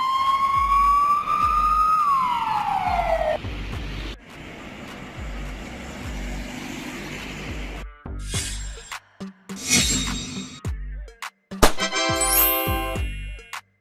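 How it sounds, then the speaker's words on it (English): A Hungarian police car, an Opel Astra or Skoda Octavia, sounds its siren: a long rising-and-falling wail, then a steady tone, then several sharp, choppy bursts of yelp and warble, loud and close. "This is the police car of Hungary"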